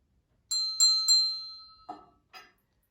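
A hand bell rings three clear, bright strokes in quick succession, then two duller, shorter clangs follow; close and isolated in silence.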